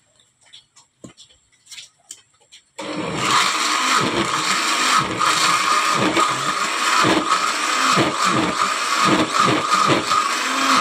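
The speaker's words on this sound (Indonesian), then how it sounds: "kita lanjut melakukan pemblenderan terhadap daun pepaya" Papaya leaves and water going into a blender, preceded by a few quiet taps and clicks, then the motor starting abruptly with a loud, sustained whir that chops with a pulsing, churning rhythm.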